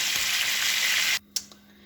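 Cod frying in oil gives a loud, dense sizzle that cuts off abruptly partway through, leaving a quiet hum with a couple of small clicks.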